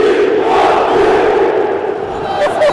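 A huge stadium crowd at a Galatasaray vs Fenerbahçe football match roars and chants in unison, a dense, continuous wall of voices with a swell of whistles and shouts near the end.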